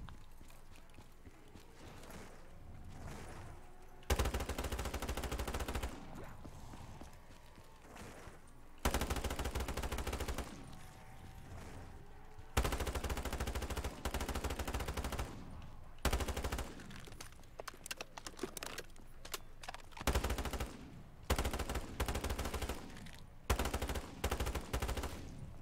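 Bursts of automatic weapon fire in a Black Ops 3 custom zombies map come in repeated sustained volleys a few seconds apart, with quieter stretches of game ambience between them.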